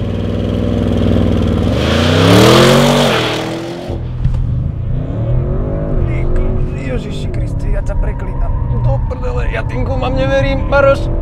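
An Audi RS6 Performance+ engine revs hard on launch control, a loud close rising roar that peaks and cuts off sharply, then settles into a rumbling idle as people talk inside the car.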